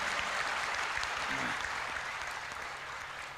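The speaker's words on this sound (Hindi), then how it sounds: "एक बार जरा ढंग से ताली बजाओ पीछे तक" A steady wash of audience applause fills a comedy event hall, broad and continuous, tapering slightly toward the end with faint voices mixed in.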